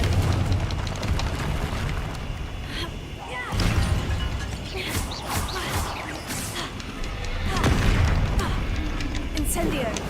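Confringo fire spell explosions going off in the video game Hogwarts Legacy, repeated booming bursts over busy combat noise, loud and near, with a voice calling spell names over them.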